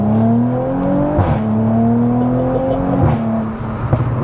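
Audi B9 S5 with a hybrid-turbo V6 revs hard, the engine note climbing steadily between quick gear changes, loud and close.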